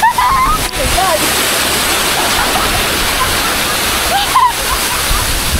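Tekip Falls pours in a loud, steady rush of water close by, with brief voices and shouts heard over the roar.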